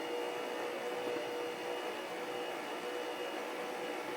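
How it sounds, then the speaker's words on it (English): A stand mixer fitted with a dough hook runs on low speed, kneading dinner roll dough with a steady, fairly quiet motor whine and no talking. "I have attached my dough hook to my mixer."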